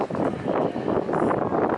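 Strong gusts roar across the microphone at a windy coastal campsite at Gaviota State Park, a steady low rumbling buffet with no one speaking.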